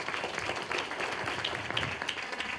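Audience applause at a library evening talk, an even, moderately distant wash of many hands clapping, steady and fairly quiet from start to finish.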